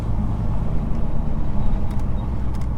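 A stock shop truck with no hood and no bed runs close by with a heavy, rumbling engine drone that holds steady for nearly three seconds, with brief light clicks near the end that could be from a gear change.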